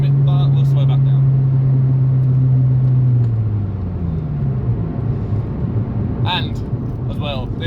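A Toyota Yaris driven fast, with a steady engine drone that holds a note and then drops as the revs fall, continuing as a rough rumble under occasional talk.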